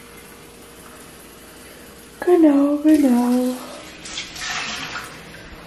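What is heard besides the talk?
one litre of water poured in for cooking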